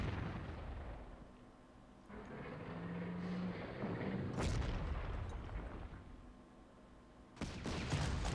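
Artillery fire in the Panzer Corps video game: two heavy booms land several seconds apart against a low rumbling battle background.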